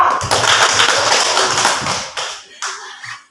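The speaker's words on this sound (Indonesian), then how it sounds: "Tepuk tangan untuk kelompok 2." Classroom applause for a student group: a burst of clapping from several hands that thins out and stops after about three seconds, fairly close and loud.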